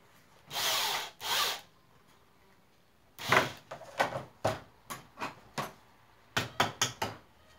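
Power drill driving screws into wooden boards while building a goalpost, in two longer whirring bursts followed by a run of short, sharp drilling pulses, close and loud with no talk.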